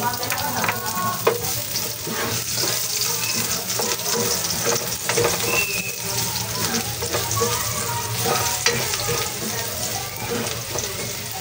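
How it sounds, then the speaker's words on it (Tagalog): Garlic sautéing in an unwashed frying pan, giving a steady loud sizzle with clinks and stirring scrapes throughout, plus some running-water noise in the background. "Doon na po natin din gigisa ang ating bawang"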